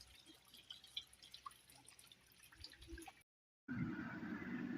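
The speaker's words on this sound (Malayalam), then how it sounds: "ആ പാറയിൽ നിന്ന് ഇങ്ങനെ വെള്ളം താഴോട്ട് ഒലിച്ചിറങ്ങുന്നുണ്ട്" Water trickling down a rock face into a small rock pool on a Vagamon hillside, heard as faint, scattered drips and splashes that give way after a brief dropout to a louder, steady wash of running water.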